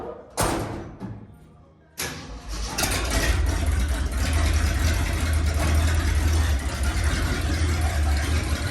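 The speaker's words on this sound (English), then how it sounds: "I'm gonna pull the truck forward and try to shimmy it back." Two heavy thuds like a door closing come first, then the engine of a 1974 Ford F-250 pickup settles into a steady, close, low running drone as the truck pulls forward.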